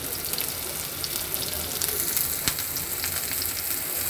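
Chopped garlic with a spoonful of white cooking oil in a pan before greens go in, giving a steady loud sizzle throughout with a few sharp crackles and pops.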